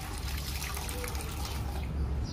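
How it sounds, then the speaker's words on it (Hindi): Water is poured into a cup as half a cup of liquid is added for a pigeon remedy. It makes a soft, continuous trickle, faint and close, with no talking. "आधा कप आपने इस पानी में ऐड कर देना है"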